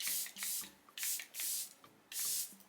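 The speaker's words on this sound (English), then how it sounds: "It is the Airbrush Flawless Setting Spray from Charlotte Tilbury." Charlotte Tilbury Airbrush Flawless Setting Spray misting from its pump bottle, five quick hissing sprays with short gaps between them, close and fairly soft.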